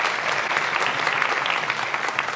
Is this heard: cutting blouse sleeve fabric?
no